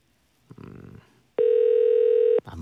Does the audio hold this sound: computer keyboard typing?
no